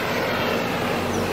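A fixed-wing airplane passes overhead above Phuket, Thailand, its engine making a steady, broad roar that fills the whole short span with no voices.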